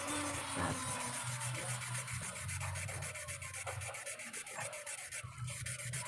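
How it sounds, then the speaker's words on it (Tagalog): Rhythmic rasping strokes of an electric fan motor's metal shaft being rubbed back and forth on fine sandpaper, close and steady, with no voices. "tirahin natin dito sa liha na hindi magaspang masyado"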